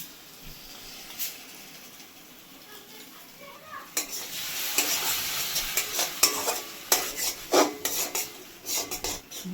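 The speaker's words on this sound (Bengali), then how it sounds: "এবার টক দইটা আমি দিয়ে দিচ্ছি" Beaten sour yogurt goes into a katla fish curry in a pan, followed by a steady run of scraping, rasping stirs that grow louder and more rapid partway through, close by.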